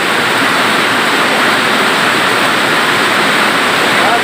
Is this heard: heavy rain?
yes